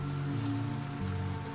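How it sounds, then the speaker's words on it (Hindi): Steady rain falling on a surface, a dense even hiss with a low rumble throughout, close and continuous, no voices. "मेरे चारों तरफ सिर्फ बारिश"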